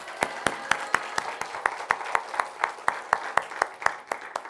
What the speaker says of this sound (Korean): 다시 한번 우리 감사와 격려의 박수, 하나님께 영광의 박수 하겠습니다